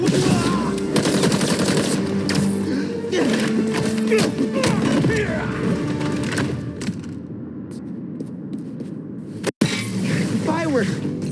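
Fireworks burst in the Marvel's Spider-Man 2 video game on a rooftop, a rapid crackling barrage of pops and thuds mixed with game sounds and voices, then a single sharp bang near the end.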